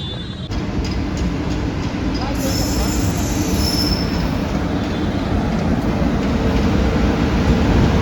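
Two freight trains on an Indian Railways line rumble past close by, a loud continuous roar of rolling wagons with squealing wheels and rattling clatter throughout.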